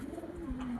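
A red female pigeon offered for sale gives a single low, drawn-out coo, close and fairly soft, with no voices.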